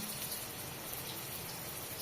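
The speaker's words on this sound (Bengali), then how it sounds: "এবার কষের পানি দিয়ে দিলাম" Water pours steadily into a pot of pumpkin curry, a continuous soft gushing wash that stays even and fairly quiet throughout, with no talk.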